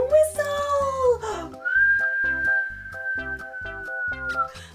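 A person whistles to imitate the wind for toddlers, sliding pitches falling at first and then a long steady tone, over a rhythmic nursery-style music backing.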